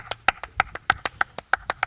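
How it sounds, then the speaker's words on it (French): A TV studio audience claps in a steady rhythm: about a dozen sharp, evenly spaced claps, close and fairly loud, with no talking. "on l'applaudit encore une fois"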